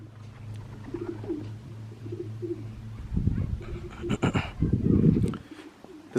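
Young pigeons call outside with low repeated coos and soft murmurs, followed by some brief rustling and flapping bursts nearby.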